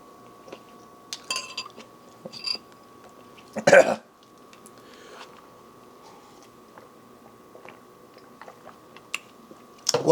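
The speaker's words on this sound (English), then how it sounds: "I am nervous about biting into one of these chilies, but gotta try it all, right?" A man eats Tom Yum Goong, biting into shrimp and chilies, with a few soft, close chewing and crunching sounds, one brief louder bite burst, and faint clinks of spoon against bowl in a quiet room.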